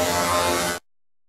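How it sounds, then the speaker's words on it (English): A vibrating motorized cleaning brush for car detailing buzzes loudly and steadily up close for under a second, then cuts off abruptly into silence. "Vibrating motorized brush."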